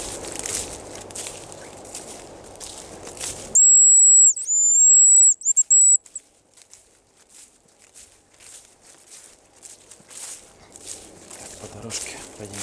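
A thin, high whistled hazel grouse call, imitated on a hunter's whistle, sounds in a few sharp trilling bursts in a quiet forest, with faint rustling footsteps before and after.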